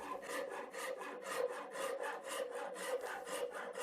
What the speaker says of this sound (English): So I'm coming in with a saw rasp and squaring up the back side of the neck.